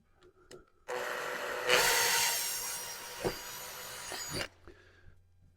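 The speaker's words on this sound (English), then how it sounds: "Just let the drill bit cut for you first" A drill bit bores into a roof spoiler on a Mercedes A-Class AMG with a loud, continuous grinding whine lasting a few seconds, rising slightly before stopping abruptly.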